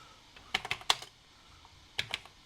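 Typing on an NEC PC-8001 mkII computer keyboard, two quick bursts of crisp key clicks separated by a pause, close and fairly quiet with no talk.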